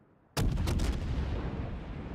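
A World of Warships cruiser salvo erupts after a brief quiet moment, a loud, close blast with a quick ripple of several cracks, followed by a long rumbling roll that fades slowly.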